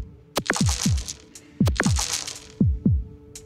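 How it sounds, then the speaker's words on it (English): A heartbeat sound effect from the video game Dicey Dungeons thumps in three loud, close double beats, each pair a deep pulse with a quick follow-up, separated by short pauses, with no talking. "Every time you hear the heartbeat, it just gets so intense."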